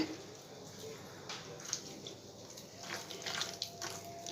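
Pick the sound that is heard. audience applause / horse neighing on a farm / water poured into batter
water poured into batter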